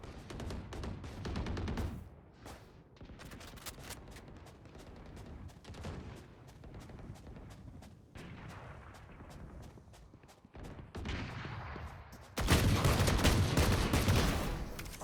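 Gunfire in a shooting video game, with bursts of rapid shots, pauses with faint footsteps, and a louder barrage near the end, fairly quiet overall.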